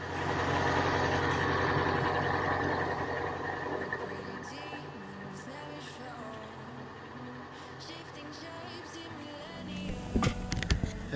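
Street traffic in a town on Lefkada, Greece: passing trucks and cars with engine rumble and a hiss of air brakes, fairly steady and moderately loud, growing busier with sharper noises near the end.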